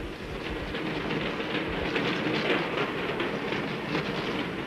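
A train climbs steeply toward a high plateau in the Andes near Lake Titicaca, a loud continuous rumble with clattering wheels and rattling carriages throughout.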